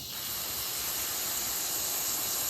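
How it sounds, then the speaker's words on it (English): A steady, close hiss of aerosol carburetor or brake cleaner sprayed onto a rag, broad and unbroken for a couple of seconds with no voices. "I take a little bit of carburetor cleaner or brake cleaner on a rag and just spray it down."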